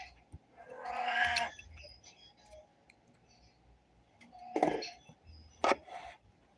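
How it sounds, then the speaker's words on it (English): A cat meows a few times close by in a quiet room, one longer drawn-out call followed after a pause by two short sharp cries, with faint clicks between. "My cat is already ready. You hear him going, wow, wow."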